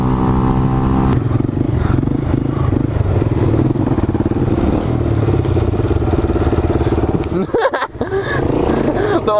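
Motorcycle engine revving hard during a wheelie on a road in the Netherlands, a loud continuous roar with rising throttle bursts and a brief dip near the end.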